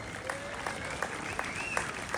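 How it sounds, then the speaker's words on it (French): Crowd applauding a team coach on the podium at a French Enduro championship team presentation in Langeac, a fairly quiet, distant wash of clapping with a few nearer claps, no talking. "vous pouvez l'applaudir très très fort"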